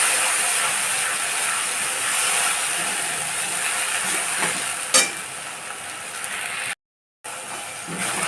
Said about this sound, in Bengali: খুব সুন্দরভাবে আমার কষানো হচ্ছে